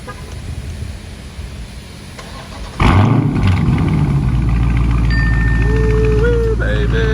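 A 2021 Dodge Charger Scat Pack with the 392 engine and a muffler delete is quiet at first, then fires up suddenly and settles into a loud, deep idle with a few rising tones over it.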